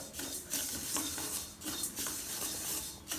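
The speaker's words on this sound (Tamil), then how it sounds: "இப்போ இரும்பு கடாயை வச்சு அதில் இப்போ வறுத்துக்கிட்டு இருக்கேன்" Pearl millet is dry roasted in an iron kadai, and a spatula rubs and scrapes the grains in a continuous rustling, gritty sound up close, with no talking.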